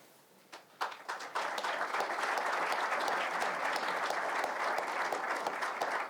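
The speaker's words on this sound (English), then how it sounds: "I wasn't expecting a round of applause for me." Applause at a college football coach's introductory news conference: a few scattered claps quickly build into steady, dense clapping from a room full of people that holds to the end.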